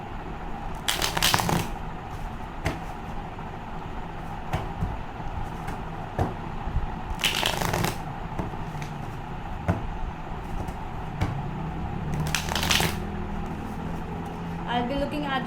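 Tarot cards being shuffled in three short riffling bursts, separated by quieter stretches of low background noise.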